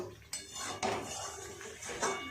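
Chicken is stir-cooked (koshano) in a pan, a spoon clanking and scraping against the metal several times. The clinks are fairly soft, over a low background hiss, with no talking.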